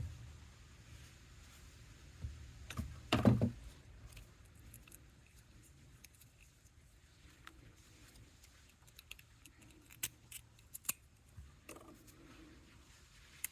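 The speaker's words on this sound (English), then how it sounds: "I'm just going to cut off a little extra" Scissors snip jewelry wire while earrings are being made, one sharp close cut standing out from a quiet room, followed by faint scattered ticks and clicks.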